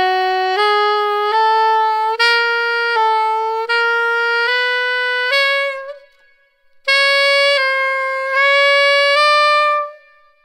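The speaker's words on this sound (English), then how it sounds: "Moving on to phrase two in the bridge, this is how it sounds, played slowly." A solo saxophone plays the second bridge phrase slowly, with a series of sustained clean notes stepping up and down, a short silence midway, then a final group of held notes fading out.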